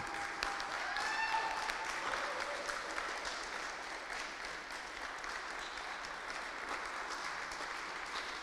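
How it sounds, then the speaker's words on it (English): An audience applauding a technician at a Christmas lecture, a steady, dense roar of clapping from many people with faint voices and a cheer mixed in. "can I get some applause for this wonderful technician?"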